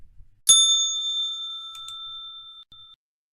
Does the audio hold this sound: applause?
no